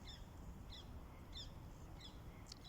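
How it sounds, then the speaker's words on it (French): Scattered bird calls, brief repeated chirps at a steady interval, sit faintly over a constant low rumble of background noise outdoors, with no voices. "Tu peux entendre les oiseaux tout autour."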